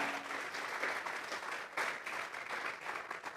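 A church congregation breaks into applause during a Spanish-language sermon, a dense, sustained wash of many hands clapping that swells slightly midway and carries on evenly, with a faint voice underneath.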